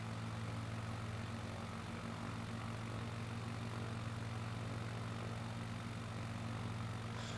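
A small propeller airplane cruises over Alaskan terrain in Microsoft Flight Simulator, its engine a steady, low droning hum with a constant propeller tone, heard alone at moderate level without any change in pitch.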